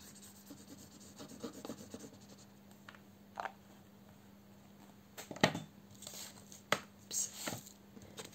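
Cardboard being glued and folded for an album box, soft rubbing and papery scraping with a few sharper creases and taps, close and quiet over a steady low hum.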